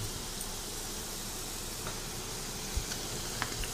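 Carrot pieces frying in a pan for a quick carrot rice, giving a faint, steady sizzle with a soft hiss throughout, a few small pops and stirring clinks rising briefly above it, with no talking.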